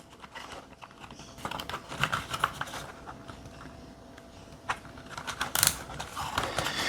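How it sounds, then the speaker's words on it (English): Plastic zip tie ratcheting tight to fasten a light mount onto a bike helmet, a run of small clicking and crinkling bursts at close range, with a final louder zip toward the end, no voices. "Zip tying it in."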